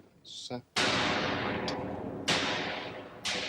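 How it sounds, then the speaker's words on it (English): Synthesized explosion sound effects from a 1982 Doctor Who soundtrack: booming blasts with long rumbling decays, three in succession, loud and close, after a brief burst of sound at the start. "there's a fairly normal explosion just coming out of there"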